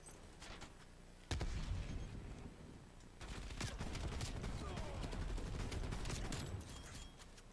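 A frag grenade is thrown during a video game firefight, with dense, loud bursts of rapid gunfire and sharp cracks crowding the whole stretch.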